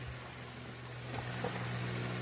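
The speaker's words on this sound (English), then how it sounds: "Oh, huge waterfall." A waterfall on a creek along a state park trail gives a steady, broad rushing roar, even and continuous from start to end at moderate distance, with no talking.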